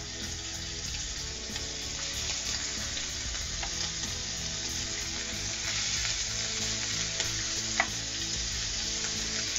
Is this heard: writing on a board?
no